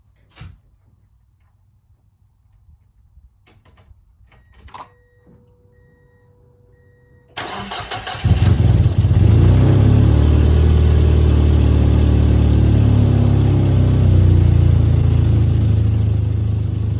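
After quiet workshop clatter and a faint electronic tone, a car engine cranks and catches, then runs loud and steady at a fast idle, its roar filling the remaining stretch after the cleaning and reassembly.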